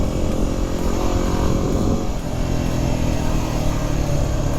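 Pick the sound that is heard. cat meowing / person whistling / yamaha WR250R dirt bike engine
yamaha WR250R dirt bike engine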